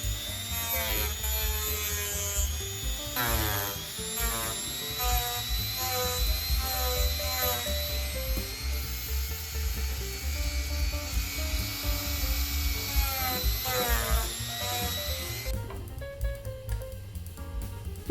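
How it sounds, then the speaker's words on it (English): A Dremel rotary tool sands curves into a small clamped piece of wood for miniature furniture, giving a continuous high-pitched motor whine that rises and dips in pitch as the bit presses against the workpiece. "Place your wood into a clamp and carefully hold your Dremel tool to smooth the curves"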